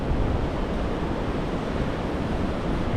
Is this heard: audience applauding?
no